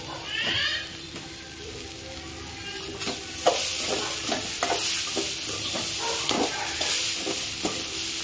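Broad beans (avarakkai) being stir-fried as a poriyal in a pan, with a steady sizzle under repeated scraping and tossing strokes of a spatula throughout, fairly close and continuous; a faint high squeal near the start.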